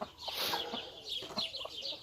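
Hens cluck and chatter in a henhouse on a hot day, several close birds giving repeated short clucks and squawks in irregular bursts.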